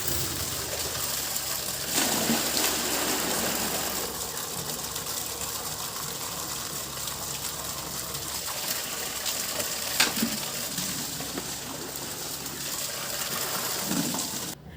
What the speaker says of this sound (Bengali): আর আজকে দেখো সকাল সকাল আগে জলটা ভরে নিচ্ছি